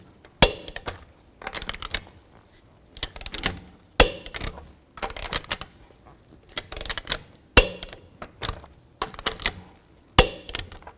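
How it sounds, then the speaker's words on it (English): A torque wrench tightens the lug nuts on a GMC Acadia's rear wheel, giving sharp metallic clicks and ratcheting bursts repeated at regular intervals, close and distinct with quiet gaps between. "Now I'll torque these lug nuts to 140 foot-pounds in a star pattern."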